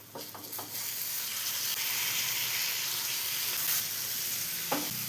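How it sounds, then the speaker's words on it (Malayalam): Masala-coated fish frying in a pan, a steady loud sizzle with a few brief clatters at the start and a short utensil scrape near the end. "ഫിഷിൽ പിടിച്ചു വരുന്നവരേക്കും ഒന്ന് ഫ്രൈ ചെയ്തെടുക്കാം"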